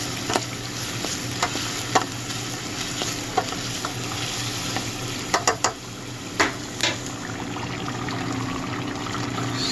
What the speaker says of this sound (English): Stir this up a little bit here.